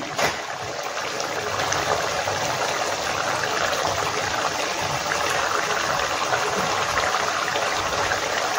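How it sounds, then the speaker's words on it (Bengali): Mustard oil pours into a dish of poppy-seed and mustard paste in a continuous, soft trickling stream heard close up, with no talking. "এবার আমি এখানে একটু সর্ষের তেল দিচ্ছি।"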